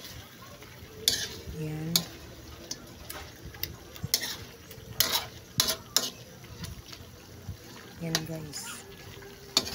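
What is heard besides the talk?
stirring chicken adobo in a pan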